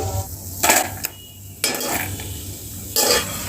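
Roasted dry fruits scraped from a pan into a bowl, with loud metallic clinks and scrapes of a utensil against cookware coming in several separate bursts, close up and without talk.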